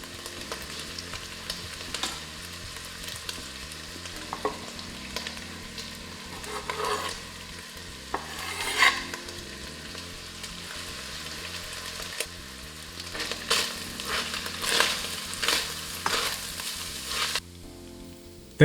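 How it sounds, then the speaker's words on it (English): Minced meat frying in oil in a wok with ginger and garlic, for Sichuan mapo tofu, gives a steady close sizzle broken by stirring scrapes and a few louder bursts of spatter near the end. "oil into the pan or wok and gently fry the meat"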